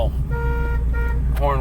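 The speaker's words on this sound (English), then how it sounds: "horn works too" The horn of a 1965 Ford Mustang coupe with a 289 V8 toots in two short honks and then a third, nearby and clear, over a low engine rumble and a voice.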